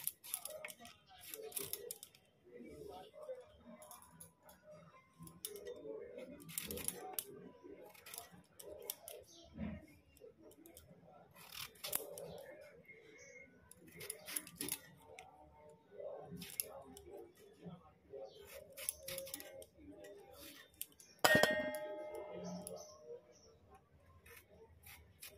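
Vegetables such as pumpkin, pointed gourd and potato are cut at home, giving an irregular run of quiet, close cutting clicks and taps with one louder clatter near the end, and faint speech now and then.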